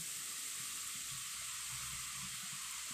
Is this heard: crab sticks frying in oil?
yes